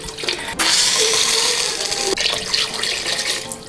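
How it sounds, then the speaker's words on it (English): Water pours steadily into a cooking pot for a vegan beef broth, a loud, continuous splashing rush near the microphone, with a couple of brief clanks at the start and midway, and no talking. "Then I add probably, I would say at least 3 cups of water to start."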